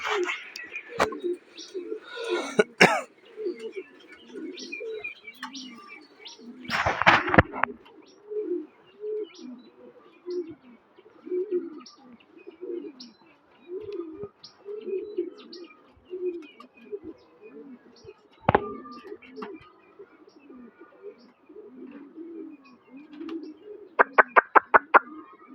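Domestic pigeons coo over and over around their cages, a steady, close chorus of low throaty calls broken by a few sharp knocks and bangs.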